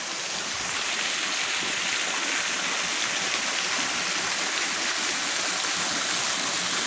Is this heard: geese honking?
no